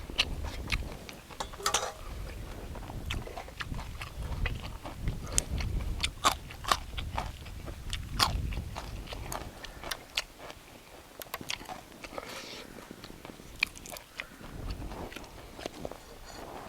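Close, quiet chewing and biting of koi pla siw, a spicy raw minnow salad with fish bile, with irregular soft crunches and mouth sounds continuing steadily.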